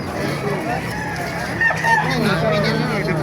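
Chickens cluck and a rooster crows nearby at a chicken market in Baliuag, Bulacan, with people talking over the birds throughout.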